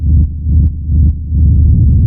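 Deep, loud techno rumble built from a reverb-soaked kick drum looped in straight sixteenth notes for an evil hard rave track, a dense throbbing low-end pulse with faint clicks at each beat.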